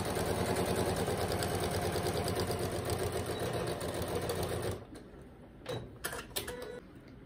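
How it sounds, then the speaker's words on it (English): A sewing machine topstitches a cotton face mask: a continuous, fairly loud mechanical hum and rapid stitching rattle for almost five seconds, then it stops and soft handling clicks and fabric rustles follow, with no speech. "now I'm just going to sew the similar line on the bottom."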